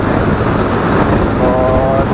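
Steady, loud engine drone and road rumble from a Yamaha All New Aerox 155 scooter climbing a hill, with a faint tonal whine rising briefly near the end.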